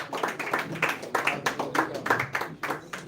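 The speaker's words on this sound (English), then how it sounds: "Please clap your hands, please." Audience at a youth stakeholders meeting clapping hands in a rhythmic, fairly regular pattern of bursts, moderately loud and close, with some voices mixed in underneath.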